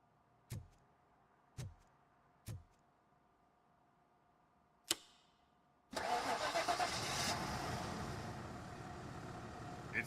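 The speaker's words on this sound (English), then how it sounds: "The coil has been disconnected. That would explain the car not starting." In the RoboCop Rogue City video game, a car engine cranks and catches, then settles into a steady idle. A few sharp clicks come before it.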